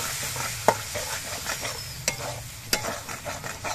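Spices frying in oil in a pan while a spatula stirs them, with a steady sizzle and three sharp scraping clicks against the pan, and no talking.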